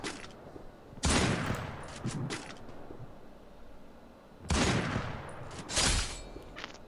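Gunfire in a shooter video game: two loud, dense volleys of rapid shots, each several seconds long, over a steady background of game noise, with no talk.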